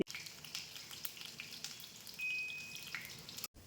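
Chopped onion and green chili frying in mustard oil in a kadai, a steady close sizzling hiss with small crackles and pops throughout.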